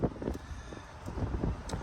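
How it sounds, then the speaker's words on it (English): Gusty wind blowing outdoors in a yard, buffeting the microphone with steady rumbling noise and occasional louder gusts, no speech. "Man, it's windy out here today."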